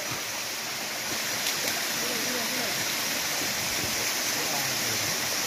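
Steady broadband rush of a small, low-flow waterfall stream in a jungle, constant and fairly close, filling the whole stretch with faint voices beneath it.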